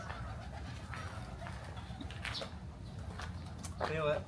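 Pigeons coo softly amid background noise and scattered voices in Nara, Japan, with a louder burst of cooing near the end.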